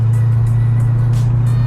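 A C6 Corvette Z06 engine held in long sixth gear at low revs, a steady deep drone with strong low hum throughout, near and continuous as the car pulls under throttle.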